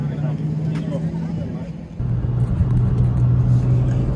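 A BMW E46 M3 with a 310-horsepower straight-six, at a private meet, rumbles steadily and then swells louder midway as it pulls away, its engine note rising in a continuous close drone.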